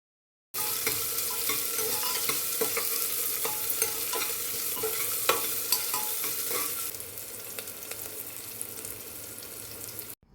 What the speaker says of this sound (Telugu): ఉల్లిపాయ ముక్కలు కూడా వేసుకోవాలి. ఆనియన్స్ లైట్ గోల్డ్ కలర్ వచ్చే వరకు వేయించుకోవాలి.